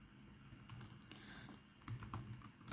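Code is typed on a computer keyboard in quick, light, irregular keystrokes, fairly faint and close, over a low room hum with no speech.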